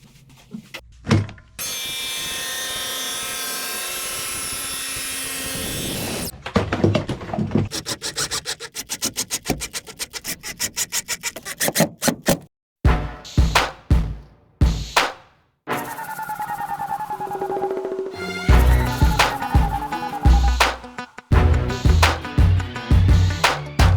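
A track saw cuts wood trim panels during a boat refit, giving loud sustained motor whines with blade bursts separated by pauses, shuffling and clunks between cuts.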